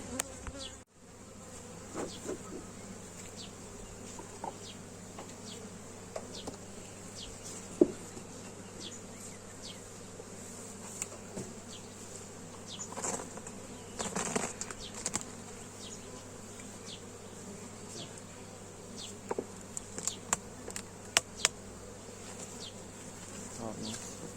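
Honeybees buzzing inside an opened hive during an inspection, a dense continuous drone close by, with individual bees zipping past and occasional light knocks against the wooden frames.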